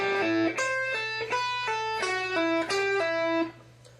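A clean electric guitar plays a short pentatonic lick of descending and repeating notes, pull-offs on the top two strings, each ringing briefly with a steady low hum underneath.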